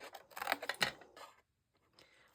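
Scissors cutting into card while making a Christmas box, a few close, quiet snips in a quick cluster, then near silence with faint handling at the end.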